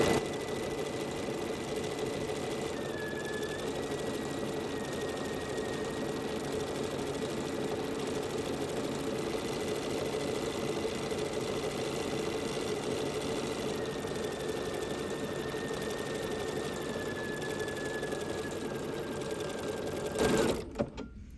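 A sewing machine runs nonstop while stitching a quilted pumpkin wall hanging, a steady whirring hum that cuts off abruptly near the end.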